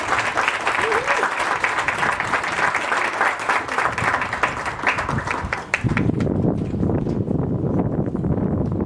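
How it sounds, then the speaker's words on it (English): An audience applauds a local band after its performance at a community recognition event, with sustained clapping throughout and a denser crowd rumble in the last few seconds. "Let's give them one more round of applause."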